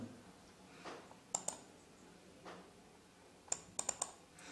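Sharp mouse clicks on a computer running tachograph control software, a few isolated clicks early on and then a quick cluster of four or five near the end, close and quiet in a still room.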